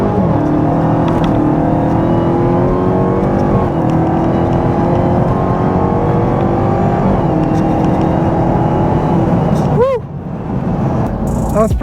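Loud, steady engine roar from a widebody Hellcat Charger and a Tesla Model 3 accelerating together in a 40 mph roll race, rising in pitch over several seconds, with a brief dip near the end as another shift or pass occurs.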